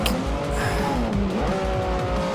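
A Lamborghini in Forza Horizon 4 brakes hard, its tires squealing in a rising and falling screech over a steady engine drone. The sound is loud and close, with no talking.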